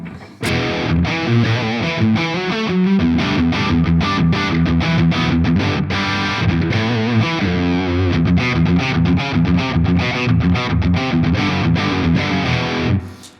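An electric guitar riff played through a Laney amp with a distorted classic 90s tone, boosted treble, loud and continuous with rhythmic chugging chords and short stops, heard alone.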